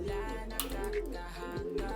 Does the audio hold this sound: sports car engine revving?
no